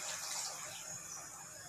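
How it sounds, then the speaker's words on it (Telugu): Water pours steadily into a cooking pot, a continuous close rushing splash of moderate loudness with no talking. "నెక్స్ట్ వచ్చేసి దీంట్లో వాటర్ అండి, కొంచెం ఎక్కువే పోసుకోవాలి"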